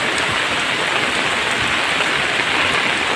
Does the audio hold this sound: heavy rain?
yes